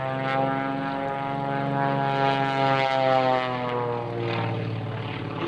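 A Samson propeller aircraft flown by Bobby Younkin rolls over at the 2004 Sussex Airshow, its engine droning steadily and loudly throughout with a rich harmonic buzz that swells and eases slightly.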